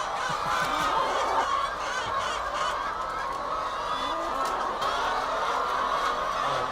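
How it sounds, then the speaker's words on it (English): Honking bird during a vet examination, a continuous stream of harsh, nasal honks and clucks, close and fairly loud, with no talking. "Let's get a couple where you're sort of examining the bird there, Kevin."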